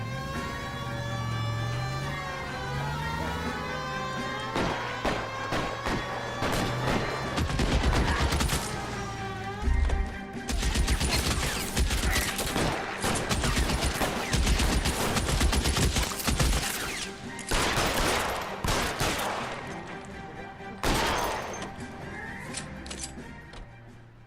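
Gunfire in L.A. Noire, a rapid fusillade of shots cracking through game music and sustained tones, with dense bursts clustered in the second half and a loud, busy mix throughout.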